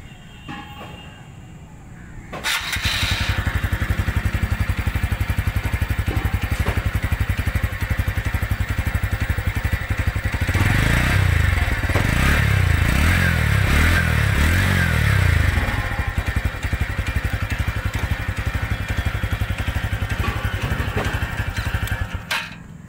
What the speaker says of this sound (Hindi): ये कुछ इस तरह से इसका एग्ज़ॉस्ट नोट है